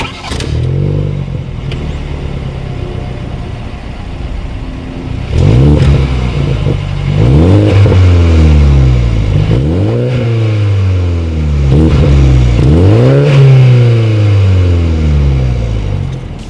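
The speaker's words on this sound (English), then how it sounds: "here is that exhaust clip" A BMW Z4 sports car exhaust idles with a deep burble, then revs hard several times in a row, each sharp rise falling back to a rumbling idle.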